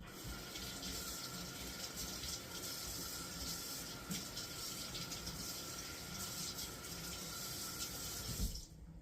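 Kitchen tap running steadily to rinse food after preparing lamb noodle soup, a continuous close hiss of water into a sink that cuts off abruptly near the end.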